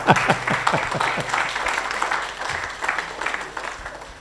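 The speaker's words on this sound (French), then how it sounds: "sous vos applaudissements" Audience members at an AI4Africa conference on artificial intelligence in Africa clap in a dense, moderately loud wave of applause that rises and ebbs over several seconds.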